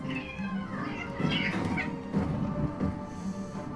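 A cat meows several times in the game Rock of Ages II, plaintive calls rising and falling over busy game noise and rumble.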